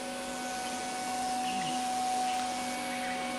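A Philips HomeRun robot vacuum cleaner runs with a steady, loud motor whine and a constant tonal hum, with no pauses.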